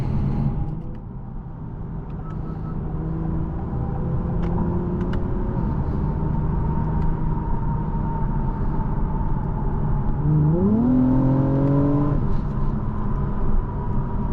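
A 2024 Acura TLX Type-S drives along on an evening road with a steady engine drone and road rumble, then the engine note rises sharply as it accelerates near the end, with no voices.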